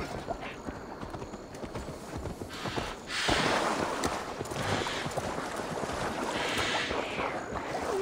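Horse hooves clip-clop in the video game Assassin's Creed Valhalla, a quick, steady patter of hoofbeats carried over a bed of wind and outdoor ambience.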